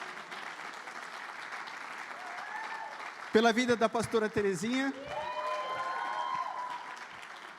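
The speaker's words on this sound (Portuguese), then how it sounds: "Aplaude a Jesus pela vida dele." A church congregation claps and cheers continuously, with a worship leader speaking over the applause and a loud burst of shouting voices partway through.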